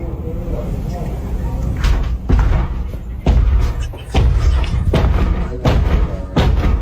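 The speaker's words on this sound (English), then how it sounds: "the dude that was banging on the door" Heavy thuds of someone pounding on a door, coming in irregular bursts of strong, loud blows with short gaps between them, close by and loud, with a few muffled voices underneath.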